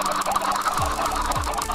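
Video-game chickens cluck and squawk in a dense flurry as they fly around, with a couple of low thumps underneath; no talking.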